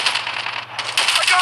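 A magazine reload in the shooter game Call of Duty Mobile, a quick run of metallic clicks and clatter lasting just over a second, close and fairly loud, over a steady low game hum.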